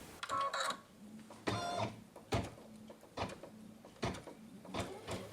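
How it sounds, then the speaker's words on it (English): An embroidery machine stitches out the word cappuccino in repeated whirring, clacking bursts separated by short pauses, close and fairly loud with no talking. "we're ready to stitch out the word cappuccino"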